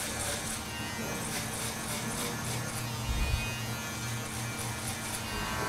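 Andis Master hair clippers buzz steadily up close while fading stubble at the bottom of a haircut, a continuous electric whir with slight shifts as the blades move through hair.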